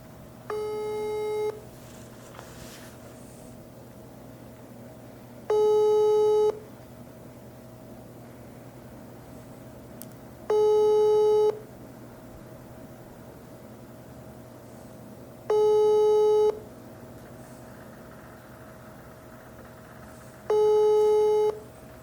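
Telephone ringback on an unanswered call: five evenly spaced tones about one second long, repeating every five seconds over a low steady hum, with no one picking up.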